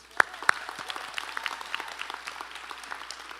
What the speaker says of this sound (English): Let's just take a round of applause for those who had created those videos.